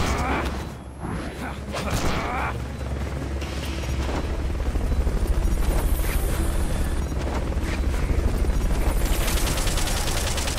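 Helicopter rotor in the video game Metal Gear Solid Peace Walker, a steady low churning drone running throughout, loud and close, mixed with bursts of gunfire and game effects.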